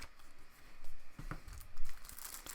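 Plastic and card packaging of a Quicksilver hero pack for a card game crinkles and tears as it is pulled open, close-up rustling with a few sharper rips.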